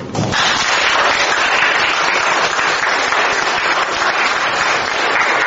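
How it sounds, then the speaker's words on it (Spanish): Sustained applause from a crowd at a church confirmation ceremony, steady and loud throughout with dense overlapping claps. "Y un aplauso para el hermano"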